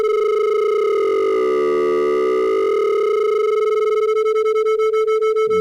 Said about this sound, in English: Those are beats.